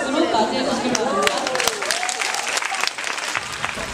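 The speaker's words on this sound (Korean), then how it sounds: "큰 박수로 맞이해 주시기 바랍니다." An audience welcomes a speaker with warm, dense applause, steady clapping filling the room throughout while a voice speaks over it.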